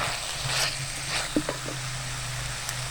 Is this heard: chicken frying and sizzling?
yes